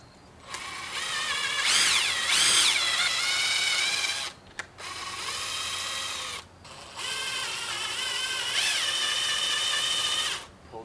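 A power drill drives screws into a wooden birdhouse with a loud, whining buzz in three long bursts that rise and fall in pitch, separated by short pauses.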